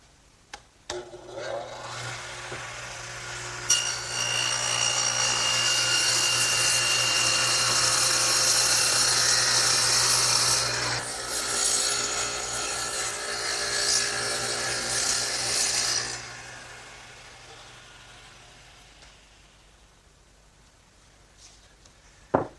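A radial arm saw spins up, then cuts a quarter-inch-deep, three-quarter-inch-wide groove across a 2x4, a loud rising whine with a gritty chewing bite through the wood for about ten seconds before winding down to quiet.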